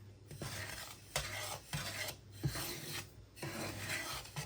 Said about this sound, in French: À l'aide d'une spatule, je vais bien mélanger jusqu'à obtenir une semoule qui soit bien torréfiée.